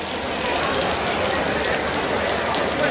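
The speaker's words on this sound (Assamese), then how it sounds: "বৰষুণ দি আছে এতিয়া, ক'লৈও যাব নোৱাৰোঁ" Steady rain falling in Delhi near a railway station, a dense continuous hiss of drops hitting surfaces, loud and close throughout with no break.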